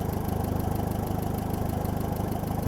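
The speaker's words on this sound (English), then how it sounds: "Just listen to that engine" An old, rusty tractor engine idles close by in a steady, rhythmic low chug, running evenly with no voices.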